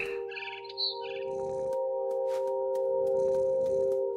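Short bursts of bright bird chirps in What Remains of Edith Finch come early and again a few seconds later over a steady tonal hum and scattered clicks, with no voices.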